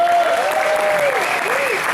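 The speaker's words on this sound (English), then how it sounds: "a nice round of applause for Dick Sherman." An audience applauds to welcome a speaker inducted into the Blues Hall of Fame in Memphis, Tennessee, with loud, dense clapping throughout and a whistle rising and falling over it.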